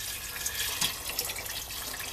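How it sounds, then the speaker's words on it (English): Filtered fish water pours into a fish stew pot as a steady, close, hissing trickle, brief and uninterrupted, with no speech. "And then you're gonna add the filtered water"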